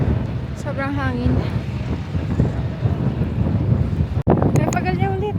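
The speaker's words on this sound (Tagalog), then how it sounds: "Sobrang hangin." Strong winter wind buffets the microphone outdoors in Dubai with a heavy, continuous low rumble. People's voices can be heard speaking over it now and then.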